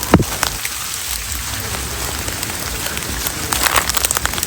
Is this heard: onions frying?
no